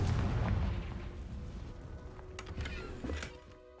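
A Confringo fire spell bursts in Hogwarts Legacy, a deep rumbling blast that fades over a few seconds with crackling debris, no talk over it.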